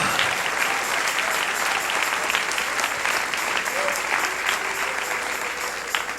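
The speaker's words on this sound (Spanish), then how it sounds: "Dale ese aplauso al Rey, dale ese aplauso" A church congregation claps together in sustained, dense applause that fills the room evenly from start to finish.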